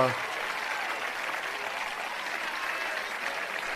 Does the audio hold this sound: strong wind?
no